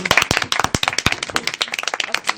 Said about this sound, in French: Merci d'acclamer les TES1